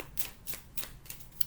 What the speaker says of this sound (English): I love how it's shuffling